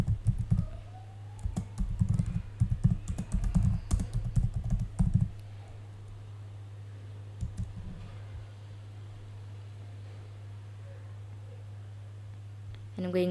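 Quick bursts of typing on a computer keyboard, entering a search into a search bar. A few seconds of rapid clicking keys, then quiet with a couple of stray taps near the end.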